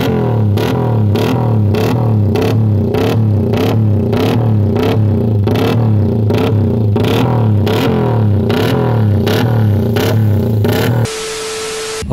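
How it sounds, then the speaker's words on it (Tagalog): A Honda TMX motorcycle engine revs through its exhaust pipe, sounding loud and close with repeated rhythmic blips and a steady throbbing pulse before it cuts off abruptly. "Okay, so yun ang sound check nung pipe na to"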